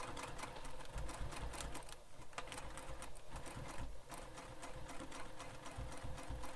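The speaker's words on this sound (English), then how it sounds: "Now I'm going to sew the other side." A sewing machine stitches the side of a bag, running steadily and continuously at moderate volume with a fast, even mechanical rattle and no talking.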